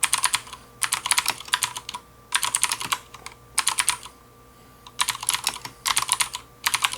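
Clicky blue-switch mechanical keyboard typing, heard up close in rapid bursts of keystrokes separated by short pauses.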